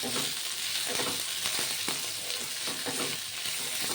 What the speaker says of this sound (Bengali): এবার আলু এই ফোড়নের সঙ্গে ভাজা ভাজা করে নেব।